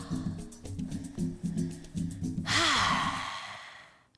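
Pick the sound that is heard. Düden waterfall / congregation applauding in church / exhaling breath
exhaling breath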